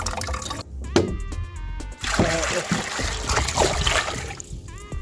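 Peas being washed in water, with splashing and trickling water, some drips and running-water bursts, heard close and fairly loud, with a brief pause in the middle and a voice speaking faintly underneath.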